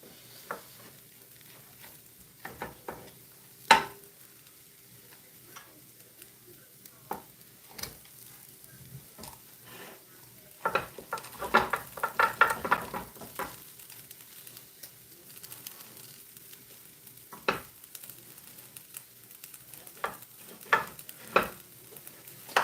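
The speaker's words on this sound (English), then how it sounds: "It's not quite the sizzle I want. I want a little bit more of a sizzle." Risotto sizzles faintly in a pan while a utensil scrapes and stirs in scattered bursts, with a busier stretch of stirring midway.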